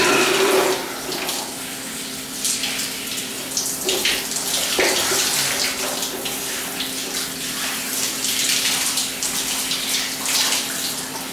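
Shower water runs steadily throughout, a close, continuous hiss and splatter on a body and the floor, with no talking.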